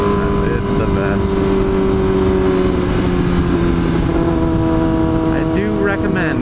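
A Yamaha R6 sport motorcycle being ridden, a loud, steady engine drone with wind rush throughout and a brief rising rev near the end, with a voice speaking over it at times.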